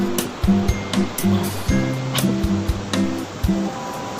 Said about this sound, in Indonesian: deras banget, gila airnya. Ini dari laut nih langsung ke muara